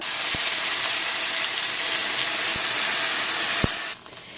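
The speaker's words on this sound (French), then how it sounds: "je vais tout simplement déglacer avec le vinaigre" Vinegar, two tablespoons, hits a hot pan of lamb neck pieces being cooked with mushrooms, giving a loud, steady, close sizzling hiss with a few faint clicks that drops away abruptly just before the end.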